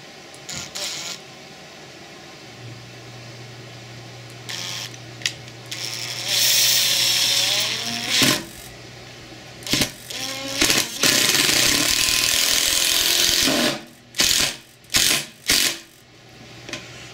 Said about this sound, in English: Each bit will be screwing in and removing 4 screws using the Makita Impact driver